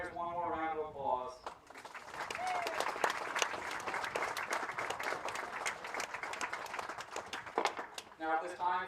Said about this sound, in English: Please give our seniors one more round of applause.